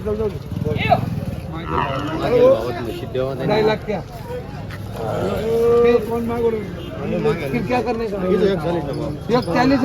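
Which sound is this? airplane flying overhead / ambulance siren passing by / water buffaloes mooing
water buffaloes mooing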